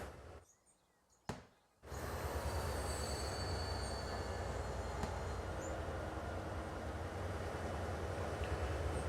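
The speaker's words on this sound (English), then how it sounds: "this freight passenger train could at least leave the station" Freight passenger train pulling out of a station in Transport Fever 2, a steady loud rumble of wheels and carriages with squealing rails, starting after a brief quiet moment and continuing close throughout.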